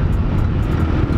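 A 1989 Suzuki GS125, a small 125 cc motorcycle, accelerates through its gears with a steady, loud, continuous engine drone and broadband roar, heard alone without any voices.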